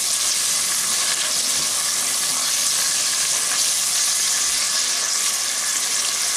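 Tomatoes and green chillies fry in a pan for a restaurant-style rice dish, giving a steady, close, loud sizzle with faint stirring, alone and without a break.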